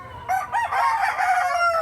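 A rooster crows once from a coop among other chickens, a close, loud cock-a-doodle-doo rising and holding for over a second with no talk over it.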